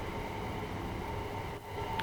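Faint steady rumble of train wheels rolling along rails in the game Train Sim World 2, a continuous low clatter with a brief dip near the end, no voices.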